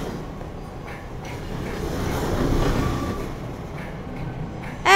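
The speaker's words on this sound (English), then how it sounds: "Am I supposed to hop on a moving train?" A moving train in the video game Underhell gives a steady low rumble that swells toward the middle, with a few faint clacks, and ends on a sudden bright burst.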